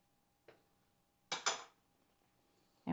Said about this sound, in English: we're just going to blend this together, whisk it